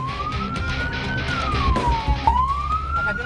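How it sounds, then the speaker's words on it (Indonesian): A fire truck siren wails loud and close on a street in Majalengka, West Java, its pitch rising, dipping and climbing again in one continuous sweep. "Petugas damkar juga sudah membunyikan sirene dan klakson, namun tidak direspon."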